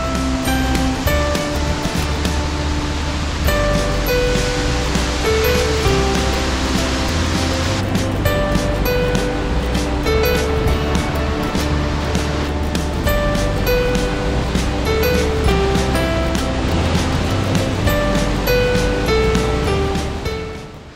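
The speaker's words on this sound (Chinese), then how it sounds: "就到了 Lower Falls， 高20米，这个也是西弗吉尼亚州的第二高瀑布" Lower Falls, a 20-metre waterfall in West Virginia, gives a loud, steady, full rushing roar of falling water. It stays unbroken from start to end with no voices.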